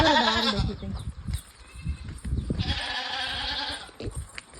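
Young goats bleat loudly and repeatedly nearby, high wavering cries coming in bursts with short pauses, over faint background rustling.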